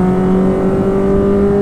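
Steady engine drone of a small-budget car heard from inside the cabin while lapping a race circuit, a constant hum with strong low harmonics and no speech.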